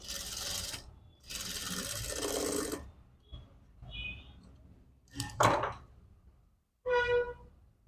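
A sewing machine stitching cotton fabric while sewing a princess-cut blouse, in short whirring runs of rapid stitching broken by pauses and a few clicks, close and alone.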